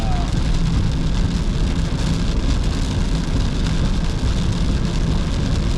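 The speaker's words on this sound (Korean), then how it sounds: "야, 진짜 비가 올 거라 생각지도 못했네" Steady rain drums on a car while driving through Japan, a dense continuous hiss over low road rumble, constant and close throughout with no pauses.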